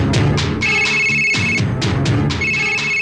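A telephone rings in a Kannada comedy film scene, its bright electronic tone repeating in short, evenly spaced bursts. It sounds loud and close, and no one speaks over it.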